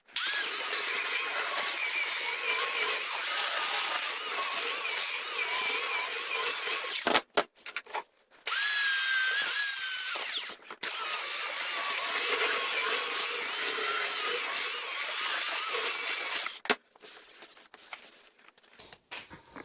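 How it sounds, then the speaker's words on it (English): A belt sander runs across old painted wood in a loud, steady, close whine with a grinding rasp, pausing briefly twice before resuming, then stopping near the end, with no talk. "now I sanded that pretty heavy with a belt sander"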